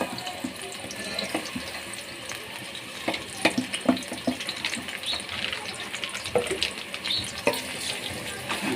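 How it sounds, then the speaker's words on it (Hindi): Onions dropped into hot oil in a kadai, frying with a busy crackling sizzle and scattered pops and spatters, fairly close and steady throughout. "अब हम इसमें प्याज डाल देंगे।"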